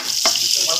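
Meat sautéing in a pan for bihon noodles, a close, steady sizzle with a brief scrape of stirring partway through.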